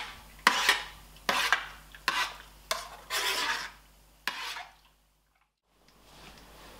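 A jar lid screwed down tightly onto a jar of fermenting corn in brine, giving a close series of five or six short grinding, rasping twists in quick rhythm, then quiet.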